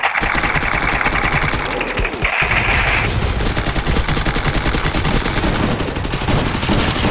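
Rapid M1014 shotgun blasts in the video game Free Fire, a dense string of loud sharp reports fired in quick succession with a brief pause partway, close and dominant throughout.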